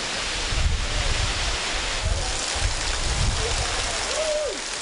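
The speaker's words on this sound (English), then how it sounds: "soaked by the pouring rain that easily snuck through its roof" Pouring rain hisses steadily onto a palm-branch roof of a small hut with tables and a bar on the Cuban coast, with low rumbling gusts underneath and a brief faint voice near the end.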